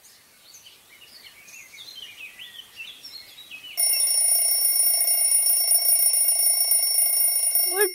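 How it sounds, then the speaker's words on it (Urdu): Birds chirp softly for a few seconds, then a clock alarm breaks in with a loud, continuous, shrill ringing that carries on to the end in a radio-drama setting. "الارم تیسری بار بج رہا ہے"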